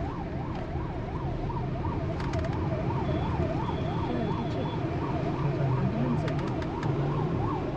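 An ambulance siren wails in a rapid rising-and-falling pattern, moderately distant, over steady traffic noise and passing vehicles on a road in Madhya Pradesh, India.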